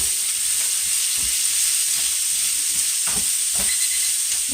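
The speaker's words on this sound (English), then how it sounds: "And we're going to saute that down." Shrimp sautéing in a pan, a steady loud sizzle and hiss of frying throughout, with faint clinks of a spoon stirring and no talk.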